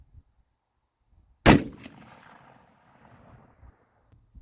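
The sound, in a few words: Parker-Hale .30-06 rifle shots while sighting in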